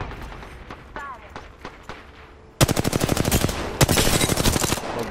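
Rapid automatic gunfire in the video game Apex Legends, a dense burst of loud shots after a quieter stretch with scattered single shots and talk, then a second sustained volley.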